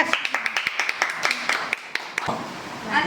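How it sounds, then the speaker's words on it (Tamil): A small group claps hands at a family celebration, in a quick burst of sharp, uneven claps close by that fades out toward the end. "சூப்பர் எல்லாம் கை தட்டுங்க"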